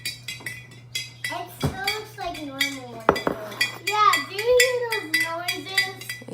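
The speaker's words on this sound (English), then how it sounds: "You're making clinking sounds, huh?" Spoons clinking repeatedly against glass as children stir sugar into hot water for rock candy, quick irregular metallic taps alongside kids' and an adult's voices talking.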